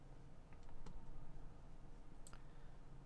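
Quiet computer mouse clicks while adjusting advanced audio settings, a few soft isolated ticks spread over a few seconds against a faint room hum.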